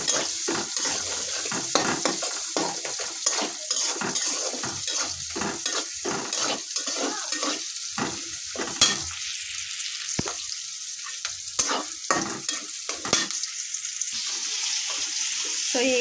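Onions and spices sizzling and frying in a pan, a loud continuous crackle broken by repeated scraping and stirring strokes, close and without talk.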